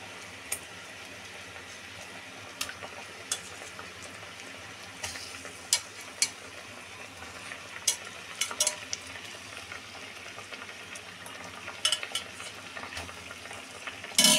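Pointed gourds stirred in hot sugar syrup for a sweet, a soft continuous bubbling sizzle with sporadic sharp clicks of the spoon against the pan, fairly quiet, no voices.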